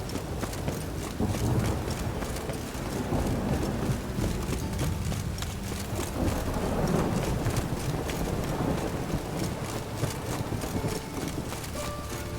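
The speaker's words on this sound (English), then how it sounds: "Even the rain smells like Christmas." Steady rain pours in The Witcher 3: Wild Hunt, a dense hiss that never lets up, mixed with hoof clip-clops from a horse and low rumbles underneath.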